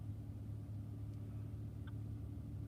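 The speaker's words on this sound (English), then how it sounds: "I had the car running" Car engine idling, a low steady rumbling hum with faint motor texture running continuously in the background, quiet and unbroken, with no talk over it.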